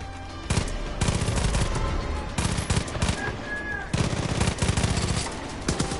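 Gunfire in the Far Cry 5 video game, loud bursts of rapid shots coming in several clusters with brief gaps between them, mixed with other game sounds and no talk over it.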